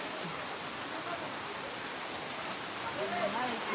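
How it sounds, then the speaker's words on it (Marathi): Steady, dense cloudburst-like rain roars across the whole clip, a constant wash of noise with faint background voices and a few brief tonal sounds near the end. "खूप मोठा पाऊस आहे आणि जबरदस्त पाऊस आहे"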